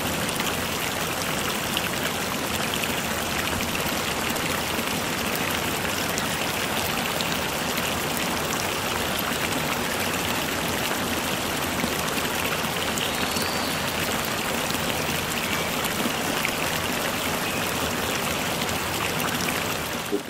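A small river flows over little cascades on a winter walk, a steady close hiss and rush of running water that continues evenly without a break.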